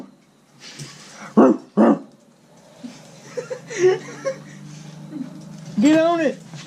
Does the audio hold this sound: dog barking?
yes